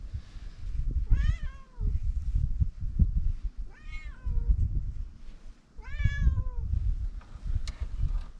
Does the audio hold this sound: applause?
no